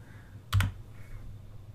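Keyboard shortcuts are pressed on a computer keyboard: two quick, close clicks from nearby keys against a quiet room hum, with no speech.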